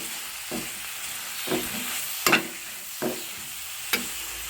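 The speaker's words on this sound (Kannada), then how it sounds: "ಒಂದು ಅರ್ಧ ಚಮಚ ಅರಿಶಿಣ ಒಂದು ಸ್ಪೂನ್ ಗರಂ ಮಸಾಲ ಇಷ್ಟನ್ನು ಹಾಕಿ ಚೆನ್ನಾಗಿ ರೋಸ್ಟ್ ಮಾಡಿ" Turmeric and garam masala roasting in a pan for a sprouted-legume gravy, with a soft steady sizzle broken by several distinct scraping stirs of a spoon against the pan.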